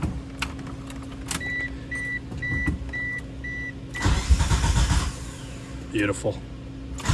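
Suzuki GSX motorcycle engine cranking on a new starter and catching, a short burst of mechanical whir then a louder running rumble, close by, after a few electronic beeps, with a brief spoken word.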